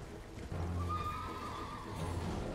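A horse whinnies in the video game Elden Ring during a mounted enemy fight, a drawn-out neigh with hoofbeats beneath it over constant game noise.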